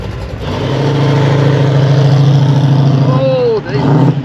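Car engines idle and rumble steadily at a car meet as vehicles pull up, a loud low drone with a brief rising rev near the end; a voice talks over it.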